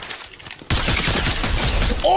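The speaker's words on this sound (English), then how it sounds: "Oh, yo, the twin mag AR is crazy" Twin mag assault rifle firing in a video game, a loud sustained burst of rapid automatic gunfire that starts abruptly after a brief quieter moment and holds to the end.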